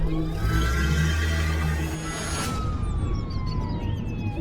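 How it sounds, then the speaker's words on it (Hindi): A police car siren wails loud and close as the car pulls up to a house in a village, its rising and falling tone sweeping on steadily and then fading as it moves away. "तभी पुलिस की गाड़ी सुरेश के घर आती है।"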